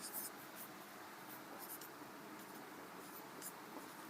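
Marker or chalk scratches softly and faintly on a board, writing out numbers in short strokes against a steady background hiss.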